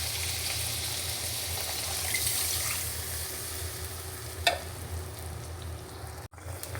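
Broth is added to shrimp and spices frying in a pan, a steady close hiss of sizzling liquid with a low hum beneath, a single utensil knock and a brief dull thud near the end.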